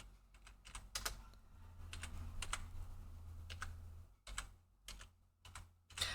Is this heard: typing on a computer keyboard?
yes